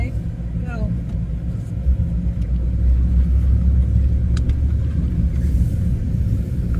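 A car passes slowly nearby, its low rumble swelling and fading over several seconds, with people talking in the background.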